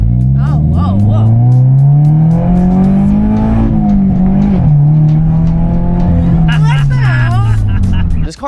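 A car engine roars loudly and revs up and down while driving fast, with a voice talking over it.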